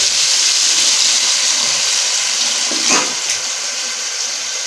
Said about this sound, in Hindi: तो अभी हम इसमें 1 गिलास पानी का डाल देंगे।